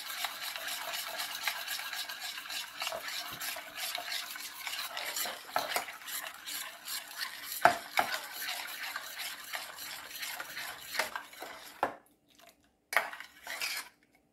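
Skin care cream is mixed in a bowl with a utensil, making continuous close scraping and clinking strokes that briefly pause near the end before resuming, no talking.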